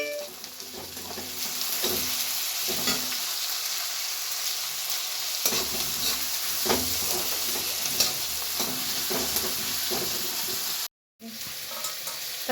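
Spices and green peas fry and pop in hot oil for masala Maggi noodles, a steady close sizzle with sharp crackles and stirring scrapes, briefly cut off near the end.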